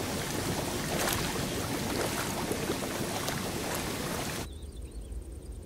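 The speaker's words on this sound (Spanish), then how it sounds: "Doñana no suena a nada, suena a motores." Water pumps droning in the Doñana marshes, a broad steady mechanical rumble and hiss filling the space, loud and continuous, then abruptly thinning to a quieter low hum with faint bird calls.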